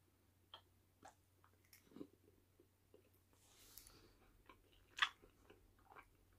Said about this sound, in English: I'm just going to bite into it